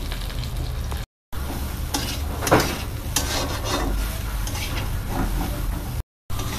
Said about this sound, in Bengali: প্রথমে ডাটাটা ভেজে নিচ্ছি